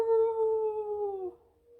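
A single drawn-out, tonal howl from a person imitating a dog, sustained for over a second before tapering off sharply in a quiet room.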